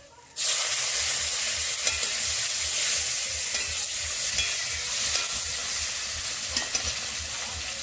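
Chopped tomato and grated ginger sizzling in hot oil in a pan for a spiced mung dal, a loud steady frying hiss that starts abruptly, with faint stirring scrapes throughout.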